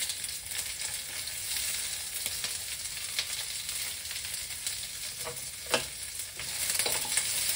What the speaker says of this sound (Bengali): যতক্ষণ না কাঁচা গন্ধটা যায় ততক্ষণ রসুনগুলো একটু ভাজা করতে হবে